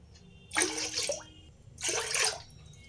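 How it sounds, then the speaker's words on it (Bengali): Water poured in two short splashing bursts into ground rice paste for homemade masala papad, close and fairly loud, with a quiet gap between pours. "এবার এখানে আমি আরও কিছুটা জল দেব"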